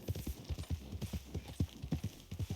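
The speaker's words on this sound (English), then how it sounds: "too much more of that horse, and it's going to be a trip to the glue factory for you, Britta" Horse hooves in a video game clip-clop in a quick, steady rhythm, close and distinct, with a continuous run of hoofbeats and nothing else prominent.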